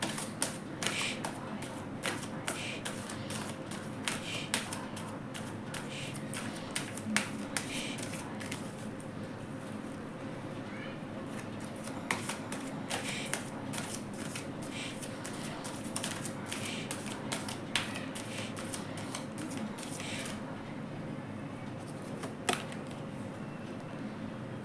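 Tarot cards are shuffled and drawn in a quiet, steady stream of soft clicking and papery rustling, with scattered sharper ticks, continuing almost without a break and with no talk.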